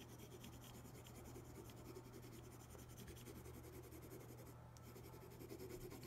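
A big pencil scratches steadily across paper, a soft continuous rasping with quiet strokes, close up and alone.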